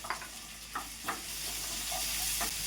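Sliced tapioca hits a pan of sautéed shallots, giving a steady close sizzle with a few clacking stirs and scrapes, and no voice.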